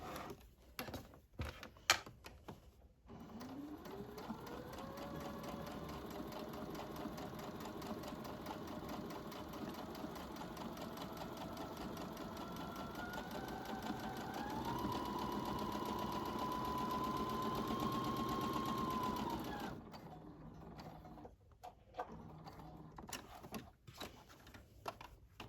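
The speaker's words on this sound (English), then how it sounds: "Back stitch at the beginning and the end because it's going to have some strain when you're turning it through." A sewing machine back-stitches the seam of a baby clutch, running steadily and close for about sixteen seconds with a rising whir partway through, framed by short stop-start bursts of stitching at the beginning and end.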